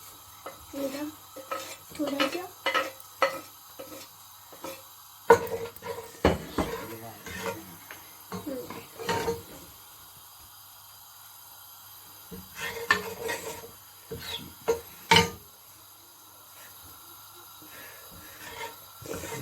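Cumin seeds dropped into hot oil in a pan and stirred, with repeated clattering scrapes of a spoon against the pan and a faint sizzle, coming in bursts between stretches of speech.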